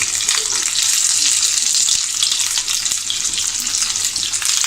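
Stuffed capsicums fry in a frying pan over medium heat, giving a loud, dense, continuous sizzle that holds steady from start to finish, close up with no voices.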